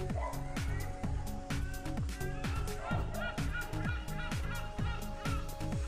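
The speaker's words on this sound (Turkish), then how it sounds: "Martılar bir şeyler söylüyor" Seagulls on Heybeliada island call in a steady series of loud, honking cries, repeating about every half second and close by, with no talk over them.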